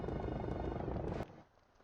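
A helicopter in a Jurassic Park video game chops steadily and loudly for over a second, then cuts off abruptly, leaving only a faint low hum.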